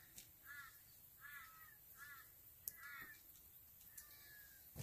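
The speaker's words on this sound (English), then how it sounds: "we've got crows crying outside there" Several crows caw outdoors on a stormy morning, giving about five short harsh calls in an irregular series. They sound fairly distant and faint, with a couple of sharp clicks between them.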